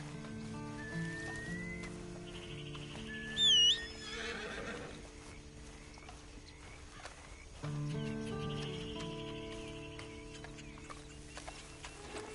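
A horse whinnies sharply in Red Dead Redemption 2 Online against a layered game soundtrack, with soft hoof clops and ambient tones carrying on quietly afterward.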